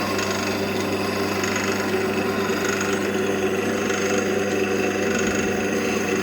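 A file held flat against the commutator of a spinning car starter motor, giving a steady, dense whirring grind with a constant motor hum underneath, close and continuous with no talking.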